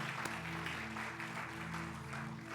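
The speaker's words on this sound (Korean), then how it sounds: "다시 한번 큰 박수로 한번" Members of a church congregation clap in unison at a 2022 retirement and ordination thanksgiving service. The applause is a dense, continuous roar over a faint sustained tone.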